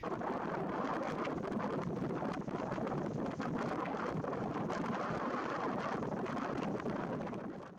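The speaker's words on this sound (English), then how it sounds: "Yeah, it's getting quite windy" Steady wind blows and buffets the microphone outdoors on a deer hunt, a continuous rushing roar with no voices.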